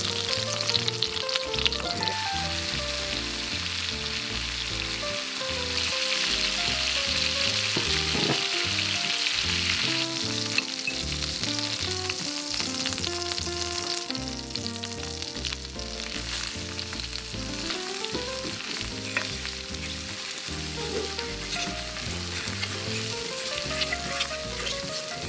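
Flour-coated chicken breast frying in oil in a pan, a constant crackling sizzle heard up close and alone, with background music running underneath throughout.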